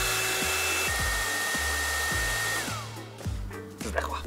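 A hair dryer blows steadily and loudly nearby, pushing air to drive an inflatable mini yacht; its pitch drops and falters near the end.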